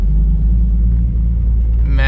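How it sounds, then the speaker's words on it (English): A Nissan 350Z idles with a steady low rumble that stays constant throughout, ending in a short burst of another sound. "They hate when I leave my car idling outside. They say it's loud."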